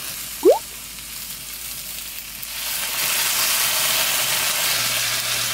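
Eggplant fries in an overcrowded pan, a soft, steady sizzle that swells partway through and continues as a broad hiss, with a brief clink near the start.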